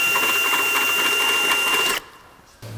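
A drill enlarging a hole in a car's metal for a catalytic converter theft guard, a loud steady high whine for about two seconds, then it stops abruptly with a brief knock.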